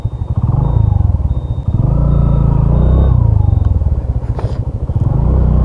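A Suzuki Hayate EP motorcycle is ridden along a road, its engine a loud, close, throbbing rumble that rises and dips with the throttle for the whole stretch.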